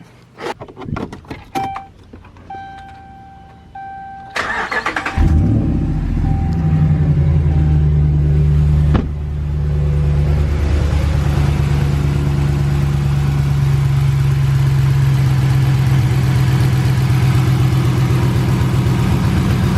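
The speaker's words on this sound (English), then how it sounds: "I'm gonna go ahead and start it." Keys jingle and click, then a Ram pickup's Hemi V8 engine cranks and roars to life before settling into a steady, deep rumbling idle, close by.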